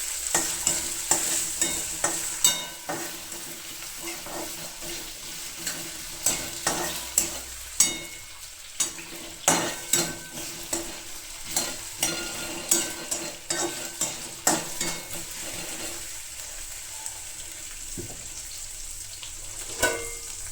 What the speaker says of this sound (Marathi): बटाट्याला थोडं आपण शिजवून घेऊया.